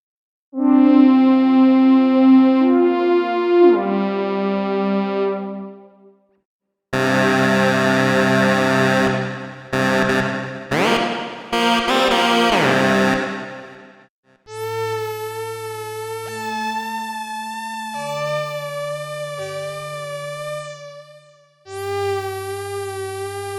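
BABY Audio BA-1 synthesizer acid bass notes play in bright, buzzy sustained tones, shifting pitch with sweeping filtered swells and gaps of silence between phrases.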